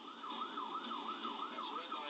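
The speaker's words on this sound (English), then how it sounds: "The ambulance had its emergency lights on and siren blaring." An ambulance siren wails continuously, its pitch rising and falling in a steady repeating cycle, loud and close with faint road noise beneath.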